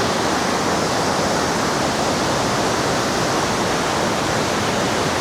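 A rushing mountain river beside a roadside trout restaurant on the way from Kalam to Mahodand Lake in Swat, Pakistan: a loud, constant broadband roar of churning water, close and unbroken, with no talk.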